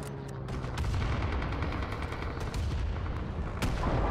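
Rifle gunfire in the Rising Storm 2: Vietnam mod Talvisota, a Winter War combat game: loud, dense, continuous shooting with overlapping cracks and booms, sharp reports standing out near the end.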